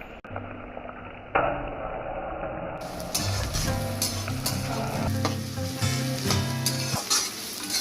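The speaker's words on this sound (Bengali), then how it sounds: "সেই তেলের মধ্যে দিয়ে দিতে হবে আগে থেকে কুচিয়ে রাখা পেঁয়াজটা" Chopped onion hits hot oil in a pan, already used for frying potatoes for mutton kosha, and sizzles loudly and steadily, with occasional stirring scrapes over the constant crackle.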